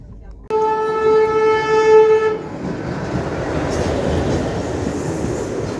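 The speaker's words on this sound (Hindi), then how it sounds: "अब ये जयपुर बठिंडा एक्सप्रेस आई है" The Jaipur Bathinda Express passes at a diverted-route crossing stop, opening with a loud, sustained horn blast, then a steady close rumble and roar of the train rolling by.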